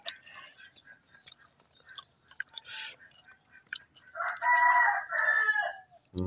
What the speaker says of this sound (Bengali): চারপাশে মুরগির আওয়াজ, পাখির কলকাকলি